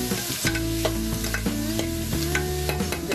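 Onions sautéing in a pan for pav bhaji: a steady loud sizzle throughout, broken by repeated scraping strokes of a spoon stirring them, with no one talking.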